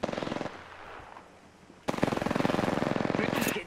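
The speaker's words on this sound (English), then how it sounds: "Bridge is getting shot at." Sustained automatic gunfire at a bridge in the video game Apex Legends, a quieter rattling burst first, then a pause and a much louder, rapid stream of shots close by, with no talk.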